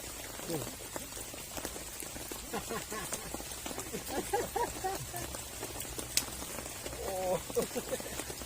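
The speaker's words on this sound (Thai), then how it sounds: "กลางสายฝนครับ" Rain pattering steadily on a surface outdoors during natural-spot fishing, a dense close hiss with scattered drops, with people talking and exclaiming over it throughout.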